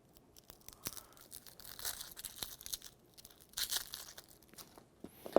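Papery skin is peeled off a halved sweet onion, giving soft intermittent crinkles and tearing rustles at close range. The bursts are quiet and irregular, with no talk.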